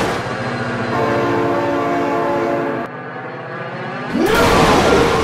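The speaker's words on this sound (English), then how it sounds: "Oh my god, train!" In the BeamNG driving game, a train passes with a heavy rumble and rolling rail noise. A loud horn blast follows near the end, cutting in abruptly after a short drop in sound.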